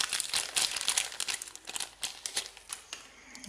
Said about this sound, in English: I'm gonna take the cable out and